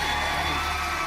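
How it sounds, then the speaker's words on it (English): A studio audience screams and cheers in a loud, continuous roar for about a second. "with the audience screaming for more, Kimmel and Daniels do this."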